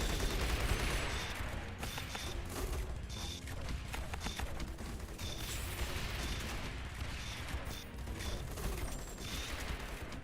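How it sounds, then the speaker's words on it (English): Mortar towers firing in the tower-defense video game Rogue Tower, making a continuous, dense clatter of rapid mechanical thuds and metallic clicks that stays steady and fairly loud throughout with no gaps. "It's just mortars."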